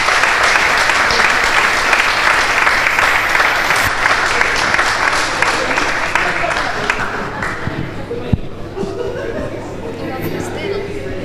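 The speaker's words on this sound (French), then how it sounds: "c'est avec un tonnerre d'applaudissements que je vous demande de le recevoir" A slam-poet introduction draws a thunderous round of audience applause at a youth forum anniversary event, dense steady clapping that carries on for several seconds before tapering off with some crowd murmur near the end.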